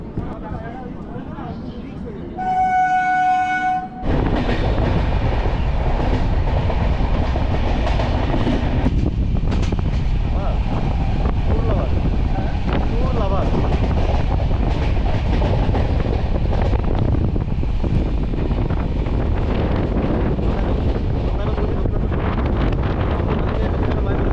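Sealdah–Jammu Tawi Humsafar Express rumbling through Dum Dum station, a loud, steady rattle of wheels and carriages with heavy wind buffeting, a brief high tone near the start, and people talking under the din.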